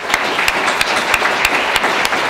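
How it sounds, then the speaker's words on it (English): Sustained applause from a town hall audience in Thunder Bay, Ontario honoring speakers, many hands clapping together with a few nearby sharp claps repeating rhythmically over the crowd's steady patter. "a warm applause to all of our fabulous speakers"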